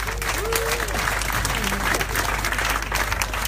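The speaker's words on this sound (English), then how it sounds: "give him a round of applause, please" Steady audience applause at a youth congress in Croydon fills the whole stretch, dense and even, with a few voices and whoops mixed into the clapping.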